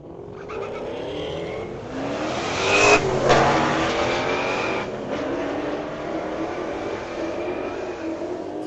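A Dodge and a Chevy Camaro launch side by side at a Friday night street-legal drag race at Mission Raceway Park, loud engines roaring and revving up hard, peaking as they pass close by, then holding a sustained high-speed roar into the distance.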